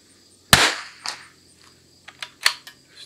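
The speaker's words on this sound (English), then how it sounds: "Let's finish out these 4 shots." A sharp, loud crack from a Christensen Arms Ranger .22 rifle, then a fainter echo and several small metallic pings and ticks at moderate distance, outdoors in a light crosswind.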